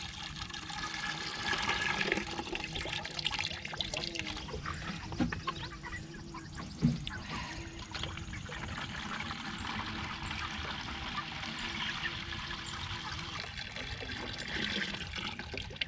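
Water poured into a chicken waterer outdoors on a hot morning with meat chickens nearby, a long continuous trickling and gurgling flow with faint background bird sounds.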